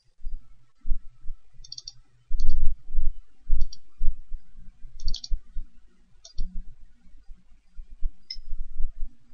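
Computer mouse clicks while operating data software, a handful of crisp single clicks spaced a second or so apart over low background noise, with brief low voice-like murmurs between.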